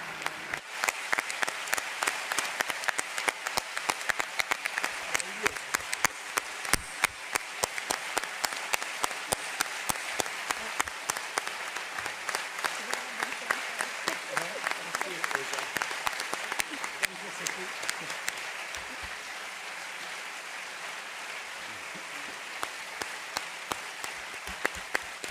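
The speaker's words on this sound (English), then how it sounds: "you heard your round of applause" Anniversary conference audience applauds with sustained, dense clapping that holds steady throughout and thins slightly toward the end, mixed with faint background voices.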